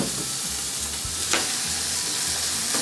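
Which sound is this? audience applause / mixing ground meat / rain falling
mixing ground meat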